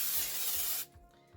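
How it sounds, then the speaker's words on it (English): Avocado oil cooking spray hisses into a plastic bowl in one steady, close burst that cuts off sharply, followed by faint handling sounds. "Just did some avocado spray in a plastic bowl."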